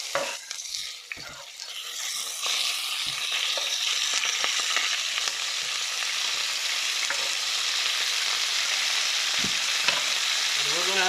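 Lamb browns in a pan over high heat and sizzles loudly and continuously. Stirring and scraping knocks sound throughout, with a few sharper clatters at the start.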